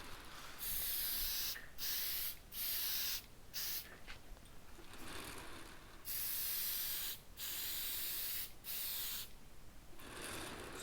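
Finish is sprayed onto a wooden end table that sits on a Lazy Susan. About eight bursts of close, hissing spray are separated by short pauses.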